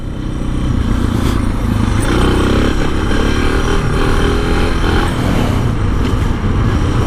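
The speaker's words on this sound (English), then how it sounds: "So I ride about second, about mid throttle, about 30 miles an hour, and then just load and go." A motorcycle in second gear pulls steadily at mid throttle near 30 mph, its engine loud and close with a continuous droning roar and wind rush, no voices over it.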